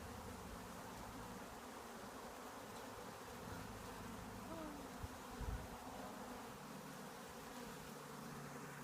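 Honeybees hum in a dense, continuous buzz at close range while a hive is opened and inspected, a steady drone with brief louder passes of individual bees.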